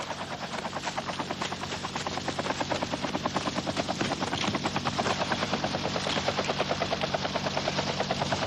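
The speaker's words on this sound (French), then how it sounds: "Allez dans l'hélico, vite." A helicopter's rotor thumps in a fast, steady chop that stays loud and close throughout, with a dense engine roar underneath.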